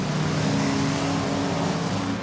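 Banger racing cars race around a track at Ipswich, their engines roaring in a continuous loud drone, with no speech.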